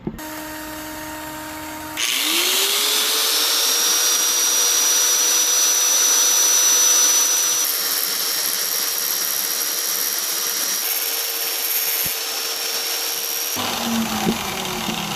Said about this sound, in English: I'm going to chuck this back up in the drill, and I'm going to grind that stuff down.